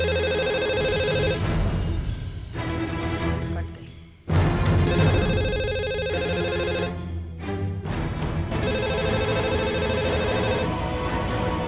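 A telephone rings on the far end of a call, a repeating electronic ring pattern that cycles steadily and loudly with short gaps between bursts, with no voices.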